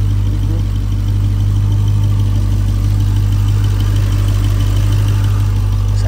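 A Dodge Challenger Hellcat sits idling, its engine giving a loud, deep, steady rumble that holds evenly for several seconds with no talking.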